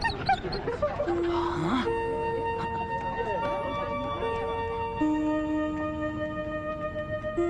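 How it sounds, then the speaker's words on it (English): A hunting dog whimpers and whines with thin, wavering high-pitched tones, heard amid cartoon-style speech and sustained musical notes. "You're the best hunting dog in the whole world, Smiley."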